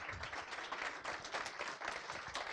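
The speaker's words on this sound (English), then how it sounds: "Huge applause to Ivana Kolcunová from Alma Career" A fairly faint round of clapping from an audience at an evening user-research talk, dense and continuous over a short stretch.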